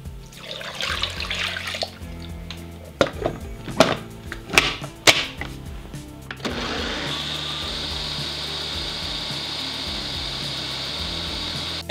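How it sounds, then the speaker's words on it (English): A food processor blends the wet ingredients for a vegan seitan turkey; after a few clattering knocks, the motor starts and runs as a steady, loud whirring drone through to the end. "add all of the wet ingredients to a food processor and let that blend really well until the liquid is super smooth"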